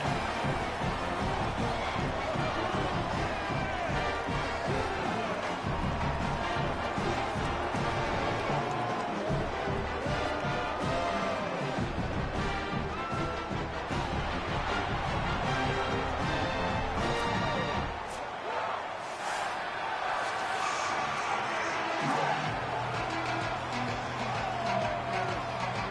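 Home stadium crowd in an NCAA college football video game before a kickoff, a dense continuous roar and babble of fans filling the space, with a commentator talking over it.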